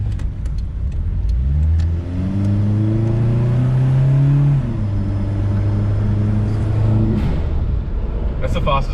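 A turbocharged Suzuki Vitara pulls hard in second gear, its engine note climbing loud and close from inside the cabin, holding high before dropping off; voices talk over the engine.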